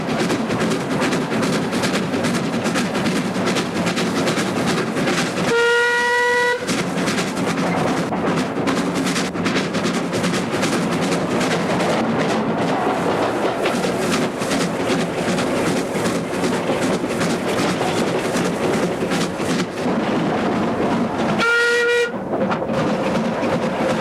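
A steam locomotive hauls a train with a battery locomotive at the rear on a rail open day at Upminster, its steady rumble continuing throughout while a loud whistle sounds twice, once early and once near the end.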